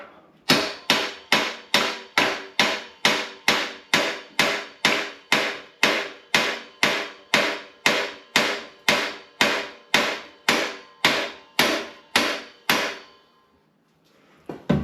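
A tomahawk war axe hammers a cotter pin out of a vintage Raleigh bicycle crank arm. Roughly twenty-five sharp, evenly spaced metallic blows ring out one after another, then stop, leaving near silence.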